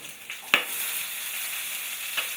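Sliced Mexican green onion sizzles in hot oil in a pan, with a steady close crackling hiss and a couple of brief sharper pops.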